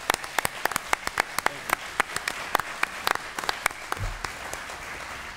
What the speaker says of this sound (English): please give a round of applause to Mr. Drew Hansen